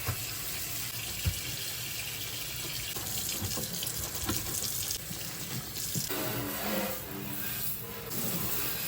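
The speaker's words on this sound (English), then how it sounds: "I'm just using Dawn dish soap and my Scrub Daddy to scrub it down." A kitchen sink is scrubbed with Dawn dish soap and a Scrub Daddy sponge, a fairly quiet, steady wash of water and scrubbing with a few louder splashes and knocks.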